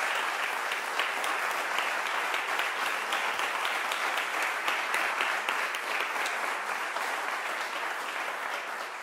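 Audience applause for a musician at a closing ceremony: dense, sustained clapping from a large crowd, steady and fairly loud throughout without letting up.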